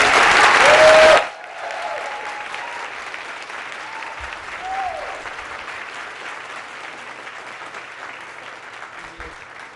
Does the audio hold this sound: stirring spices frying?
no